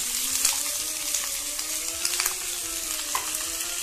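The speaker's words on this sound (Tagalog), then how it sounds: "lagyan na natin ang lahat ng chicken. Halu-haluin lang natin siya." Chicken frying in a pan while being stirred, a close, continuous crackling sizzle broken by repeated scraping stirs, with no voices.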